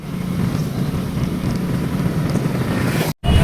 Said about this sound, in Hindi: तो गाइस बाहर निकलने के बाद हम बाइक पर चल रहे हैं।